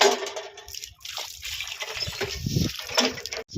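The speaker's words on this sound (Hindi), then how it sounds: "कितना ठंडा है ये नल का पानी" Cold water runs from an outdoor tap in a village near Mathura, a steady splashing trickle, close and moderately loud, with brief gaps.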